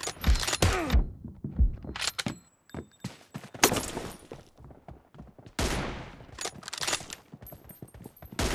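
Gunfire in a mobile battle-royale shooter: sharp, loud shots fire singly and in rapid bursts, with irregular gaps and brief lulls between volleys.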